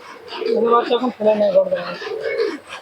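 Male and female pigeons being shown for sale in Shantipur give soft, throaty coos with harmonic warbles, close and continuous under a voice.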